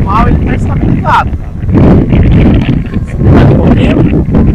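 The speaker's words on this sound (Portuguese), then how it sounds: "Ó, pode ver o vento aí, olha." Strong gusty wind from the sea buffets the microphone of an FPV drone flying in a gale beside bending coconut palms, a loud rumbling roar that surges and dips, with brief bird calls poking through.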